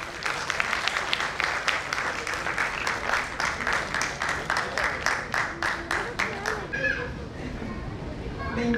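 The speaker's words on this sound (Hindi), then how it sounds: "आपकी पुरजोर ताली।" Audience at an Arts Council Karachi award ceremony gives rhythmic clapping, a steady burst of applause that fades out near the end with a bit of murmur.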